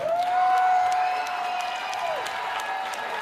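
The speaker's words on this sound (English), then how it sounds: "round of applause for Fight of the Year" A crowd applauds steadily at a combat sports fight event while a sustained tone rings over the clapping for about two seconds, then fades.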